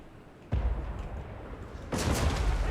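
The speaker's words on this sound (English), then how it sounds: "There go the cannons firing away" Cannons firing in a Total War: Warhammer battle between Vampire Coast, Empire and Lizardmen armies, a dense rumble of booming blasts and battle noise that swells at half a second and again near two seconds, loud and continuous.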